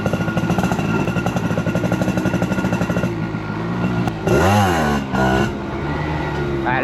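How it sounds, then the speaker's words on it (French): Small motorcycle ridden off-road on beach sand, its engine pulsing in a steady rapid rhythm up close, then revving hard and bogging down as it works through the sand. "Franchement c'est bien drôle cette petite moto,"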